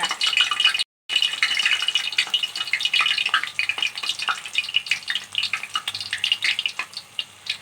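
Urad dal vada batter dropped into hot oil, frying with a steady close crackle and sizzle, broken by a brief silent gap near the start, with no talking.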